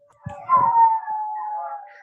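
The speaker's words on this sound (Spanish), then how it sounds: "está pasando ambulancias y entonces hay muchos perros en el barrio" A dog howls in a long, wavering tone in a neighborhood as ambulances pass, fairly close and continuous after a short bark-like onset.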